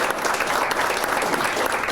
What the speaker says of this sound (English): For any of the district courtrooms in the Gallatin County Law and Justice Center, clapping is a rare phenomenon